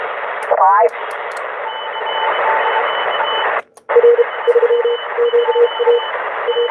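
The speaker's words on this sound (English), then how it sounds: "that's just regular Morse code" Radio static hisses on 11-meter CB band skip as a faint tone beeps on and off in Morse code patterns, with a brief dropout in the middle.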